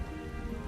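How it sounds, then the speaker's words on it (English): Steady rain falls in Final Fantasy XIV, a dense, even patter on surfaces that holds at moderate level throughout. "now the weather decides to make it rainy"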